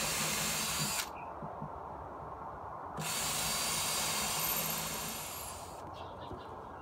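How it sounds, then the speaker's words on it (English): Cordless drill driving screws into a wooden framework for a skateboard quarter pipe, two sustained whirring bursts with a pause between, fairly close and steady, no talking. "now it's time to start to screw in this framework inside."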